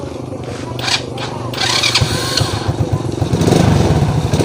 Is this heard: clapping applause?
no